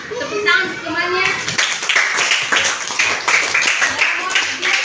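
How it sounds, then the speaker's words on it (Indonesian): In a primary school classroom in Ambon, children's voices give way to a burst of quick, uneven clapping from the class, continuing steadily with chatter mixed in. "Tepuk tangan untuk temannya."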